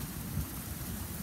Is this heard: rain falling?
yes